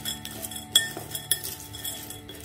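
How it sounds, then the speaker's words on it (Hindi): Roasted snacks such as peas, chana dal, chickpeas and moong dal tossed with red chilli powder and salt in a metal bowl, with light clinks and a few sharp spoon taps against the bowl, near and quiet. "अब इसे अच्छे से मिक्स कर लेंगे"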